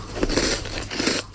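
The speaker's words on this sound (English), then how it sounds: "It's the right amount of crunch and OMG, so much chocolate." Teeth bite into a crunchy chocolate snack, producing a close, loud series of crisp crunches and crackles that repeat in quick bites over about a second.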